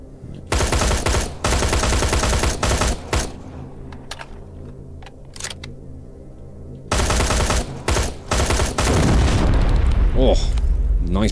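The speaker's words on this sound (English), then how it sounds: "Big explosion." Loud bursts of heavy gunfire and booming blasts from a combat fight in the video game Terminator: Resistance, coming in dense volleys with a rumbling explosion near the end, while someone talks at times.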